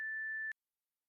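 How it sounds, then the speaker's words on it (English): A single steady voicemail beep sounds, clean and electronic, holding for about half a second before cutting off into silence. "Leave a message after the beep."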